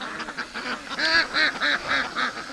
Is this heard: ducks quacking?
yes